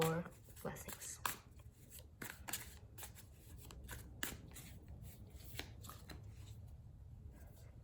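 Tarot cards are shuffled by hand in a quiet room, producing repeated short riffling and tapping bursts at an uneven pace, fairly close and soft.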